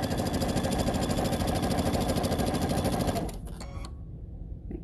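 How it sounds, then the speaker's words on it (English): A sewing machine runs steadily while stitching a quilt block seam, a loud continuous whirring hum for about three seconds, then stops, leaving a faint lower mechanical rumble with no one talking. "I'm gonna sew this seam together."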